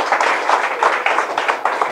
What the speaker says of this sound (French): Applaudis Jésus